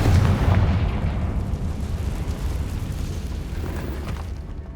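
Confringo spell explosions in the Hogwarts Legacy video game: a loud booming blast at the start, then a long rumbling roar that slowly fades, no speech over it.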